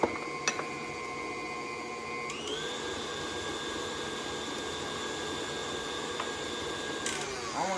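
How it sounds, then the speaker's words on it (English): A stand mixer with a paddle attachment mixes chewy oatmeal chocolate chip cookie dough, giving a continuous close motor whine. The pitch steps up partway through as the speed changes, and a couple of brief knocks sound near the start. "I'm using my paddle thing on my mixer."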